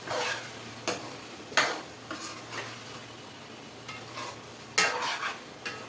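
Spoon stirs gongura chicken fry in a pan in a series of separate scraping strokes over a faint steady sizzle, close and fairly quiet, with no voices.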